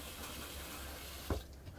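A motorhome faucet runs pink antifreeze during winterizing, a faint steady water hiss into the sink trap, with a brief knock as the flow is adjusted near the end.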